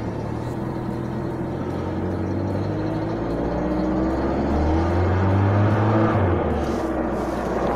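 Engine of a Zhiguli car idling steadily after a month and a half sitting unused, a continuous low rumble with a rising, strained swell of revs near the end, close by with no talking.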